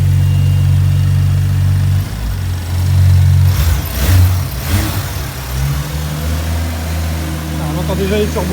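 BMW M2 engine running close by, its idle broken by short revs and a whooshing turbo spool in the middle, then falling back to a steady low rumble.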